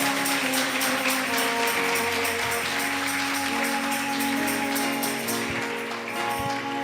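Steady applause fills a church during a sermon, a dense, continuous wash of clapping from the congregation held at an even level over a low hum, with no speech on top.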